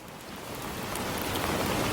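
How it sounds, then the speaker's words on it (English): Steady, dense English rain hisses down, a broad even wash of drops that swells slightly louder before cutting off abruptly. "The English rain just pouring down."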